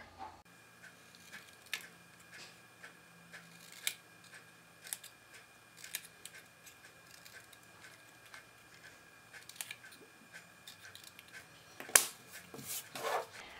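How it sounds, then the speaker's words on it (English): Paper snips cut a banner shape around card stock for a red foil Christmas card, giving a steady run of crisp close snips at irregular intervals in a quiet room, ending with a louder burst of cutting and rustling. "I'm going to take my paper snips and cut a banner around it"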